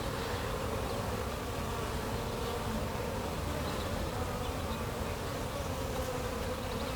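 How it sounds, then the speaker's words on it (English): A dense, steady buzzing of many honey bees in an open hive fills the air continuously, close and loud, with no voices. "This one here might have too many bees in it"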